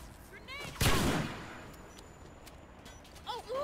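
Gunfire in a first-person shooter video game: one loud close burst of shots followed by fainter scattered shots, with game effects chirping in the background.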